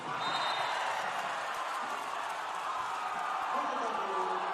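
Inside a EuroLeague basketball arena for Tango Bourges Basket against Valencia Basket, the crowd roars in a broad, sustained wash after a foul call, with a commentator speaking over it.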